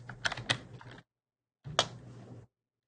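A command typed on a computer keyboard, heard as two quick bursts of close, crisp key clicks separated by a short silence.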